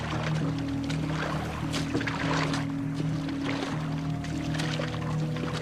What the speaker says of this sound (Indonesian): Better when we're going by motorboat.